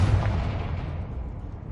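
A Confringo spell blast in the video game Hogwarts Legacy, a single loud, deep explosive boom that hits at once and fades into a rumbling tail, with no talking.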